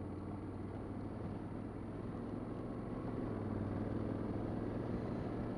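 Honda X-ADV 750 adventure scooter-motorcycle from 2017 riding along a gravel road, a steady close engine drone mixed with broadband tyre and gravel rumble throughout, no talking.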